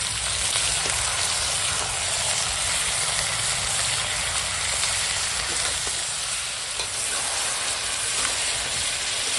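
Chicken pieces sauté in a pan with turmeric, salt and tomato, producing a dense, continuous close-up sizzle and crackle, steady in level, with soft scraping of stirring underneath and no talking.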